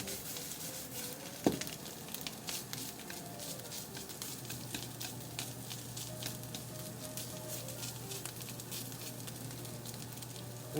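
Takuan pickled radish stir-frying in sesame oil in a pan, a soft continuous sizzle with light ticking and crackling pops throughout, fairly quiet with a faint steady hum underneath.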